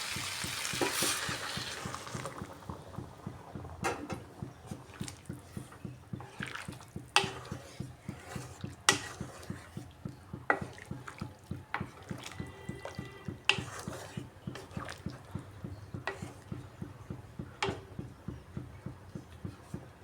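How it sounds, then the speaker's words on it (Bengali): Squash vegetable curry frying in a pan with hot water poured in, giving a steady sizzle and bubbling with repeated stirring scrapes and drips, fairly close and continuous, with no talk. "কষানো হয়ে গেছে, দিয়ে দিচ্ছি এর মধ্যে গরম জল।"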